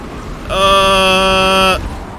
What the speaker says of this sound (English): I'm going to keep quiet for this lap so you can hear the engine, hear the groan